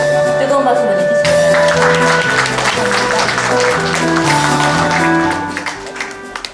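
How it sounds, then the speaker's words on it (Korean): An audience claps at the 13th anniversary ceremony of a Busan loyalty and filial-piety movement association. Steady applause runs under loud ceremonial music for several seconds, then fades out near the end. "뜨거운 박수 보내주시기"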